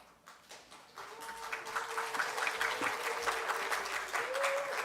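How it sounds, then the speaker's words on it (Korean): A church congregation at a choir dedication service applauds, the clapping building from scattered claps into full, sustained applause, with a faint tone and murmur audible beneath it. "뭐 원래 박수 치는 건가요?"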